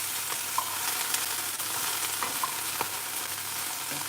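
Noodles sizzle steadily in a hot pan while chopsticks turn them over, adding a few light clicks and stirring scrapes over the constant frying hiss, with no voices.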